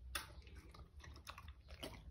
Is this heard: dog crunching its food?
yes